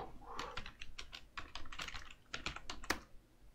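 Computer keyboard keys clack in a quick, uneven run of close, quiet keystrokes while a command is entered during a Metasploit penetration-testing session.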